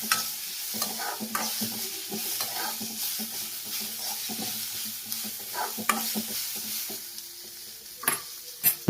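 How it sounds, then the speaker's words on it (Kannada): Garlic fries in a little oil while being stirred for mutton sambar, a steady soft sizzle broken by repeated scraping and clinking of a spoon against the pan, close and without talk. "ಎಣ್ಣೆ ಹಾಕೊಂಡು ಸ್ವಲ್ಪ ಬಣ್ಣ ಚೇಂಜ್ ಆಗೋವರೆಗೂ ಈ ರೀತಿ ಫ್ರೈ ಮಾಡಿ."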